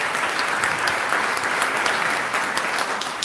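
A church congregation breaks into steady, dense applause, many hands clapping together at close range for several seconds with no pause, filling the space evenly after the preacher calls for it.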